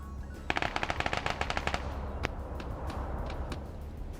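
Gunfire in a PvP shooter match: a rapid burst of about a dozen automatic shots, then scattered single shots and reverberant battle noise at moderate distance.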